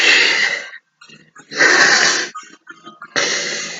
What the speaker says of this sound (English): Tongue to the roof of the mouth, breathing deep into the belly.